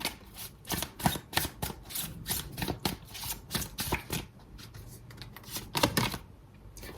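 Tarot cards handled and drawn from the deck in a rapid run of close, crisp papery flicks and shuffling riffles, fairly quiet, with a few slower taps near the end.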